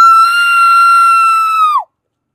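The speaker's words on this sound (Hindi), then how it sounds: "दीदी फिर से चिल्लाना" A woman screams on request during a night-time shoot, a single sustained high-pitched scream held for nearly two seconds, loud and close, ending abruptly with a falling tail.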